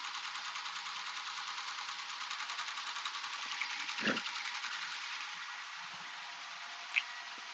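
An embroidery machine stitches out a design with a steady, fast, even mechanical whir, a fine rhythmic pattering held throughout, with a soft thump midway and a brief click near the end.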